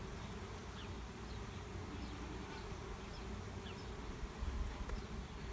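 Honeybees buzzing around an open beehive during an inspection, a steady dense drone with individual bees zipping past close to the microphone.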